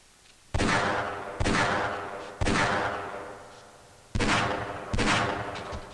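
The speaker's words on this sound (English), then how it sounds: "I was shooting at the wall by accident" Five heavy gunshots in Half-Life: Blue Shift, fired one at a time at uneven intervals, each a loud close blast with a long echoing decay, heard alone with no talk.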